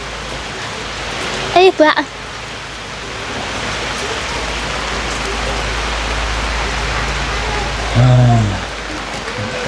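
Steady rain falls outdoors beside a cooking fire, a constant close hiss lasting throughout, with a brief burst of voices early on and another short sound near the end.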